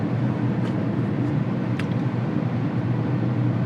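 A steady low rumble of tire rolling noise fills the cabin of a Skoda Octavia 2.0 TDI with DSG gearbox as it cruises along, an even drone with a few faint clicks above it.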